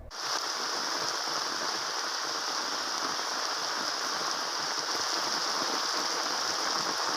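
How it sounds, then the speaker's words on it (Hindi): Steady, continuous heavy rain falls in Dabhoi, Vadodara district, Gujarat, a constant broadband hiss holding at even loudness throughout with no voices. "डभोई में लगातार बारिश हो रही है"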